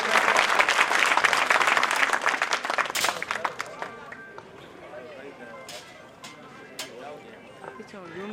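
Audience claps loudly at a community award ceremony honoring an awardee, dense applause fading out over several seconds as people talk in the background.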